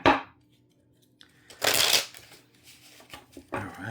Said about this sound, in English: Just one more shuffle and we're going to get started.